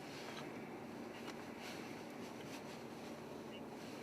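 Strong 35 mph wind from a December Iowa blizzard with whiteout conditions, roaring steadily and buffeting close to the microphone without a break.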